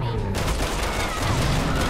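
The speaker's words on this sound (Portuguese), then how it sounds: "Olha o cara dando tiro em mim" Gunfire in the survival-horror game Resident Evil 6, a dense burst of shots and rapid automatic fire with game sound effects and music underneath, steady and loud through the whole stretch.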